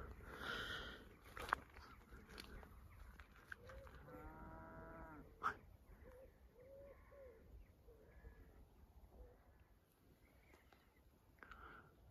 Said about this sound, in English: There's an oryx, otherwise known as a cow.